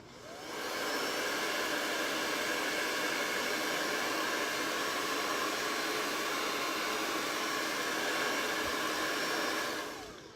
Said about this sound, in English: All right, let's dry it a little with the blow dryer.